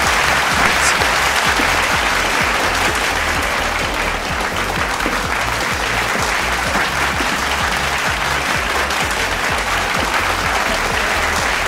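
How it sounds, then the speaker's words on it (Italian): Sustained audience applause greeting a product creator taking the stage, loud, dense and steady clapping from a sizable crowd lasting throughout with little talk. "Un bel applauso."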